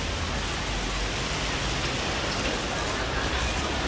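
Steady, dense rain pours down at a beach in Hong Kong, a loud and unbroken hiss of falling water with no pauses throughout.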